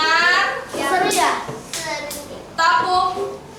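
Children perform a rhythmic hand-clapping pattern in a primary school class, sharp claps in short bursts mixed with kids' voices chanting along, fairly close and lively.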